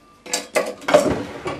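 Dishes waiting to be washed at home clatter in a few sharp, close bursts of clinking cutlery and knocking crockery, with short pauses between the clashes and no talking.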